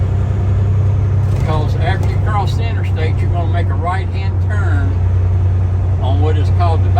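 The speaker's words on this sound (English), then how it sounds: "I'm gonna get it up to 7th gear" A truck's engine drones loudly and steadily from inside the cab on a road course as it is brought up to seventh gear, with someone talking over the constant rumble.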